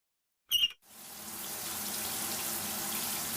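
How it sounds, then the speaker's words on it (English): A short high squeak, like a tap or valve turning, is followed by warm shower water starting up and running in a steady, close, hissing spray with no voices. "The warm shower poured over Pheej Hmoo's shoulders as he stood silently beneath it."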